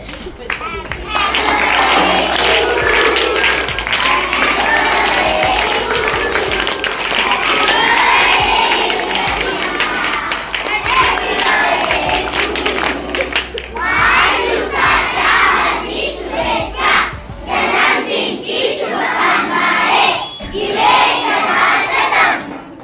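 A crowd of school children at a birthday celebration for a girl, loud mass clapping mixed with cheering and shouting voices, sustained and close throughout.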